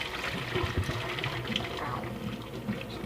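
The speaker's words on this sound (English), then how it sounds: "I pour any excess hot boiled water down the sink so that fruit flies don't end up spawning." Excess hot boiled water pours down a kitchen sink, a continuous loud splashing gush with gurgling that runs steadily throughout.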